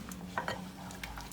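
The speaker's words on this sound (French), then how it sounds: "Je mélange" Stirring a cognac and lemon sauce for grilled lobster, a few soft clinks and scrapes of utensil against a pan over a steady low kitchen hum, quiet and close.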